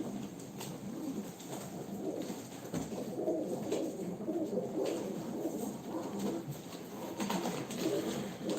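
Racing pigeons coo continuously in a loft, a soft, layered murmur from many birds close by that holds steady throughout.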